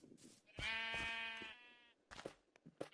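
A sheep bleats once in Minecraft, a clear wavering synthetic bleat lasting about a second, followed by brief clicks and game sounds.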